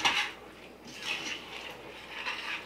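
A thick pot pie filling of cooked chicken, vegetables and half-frozen peas and corn gets a vigorous stir, a spoon scraping and clinking against the pot in three soft, rhythmic sweeps, close by with no talking.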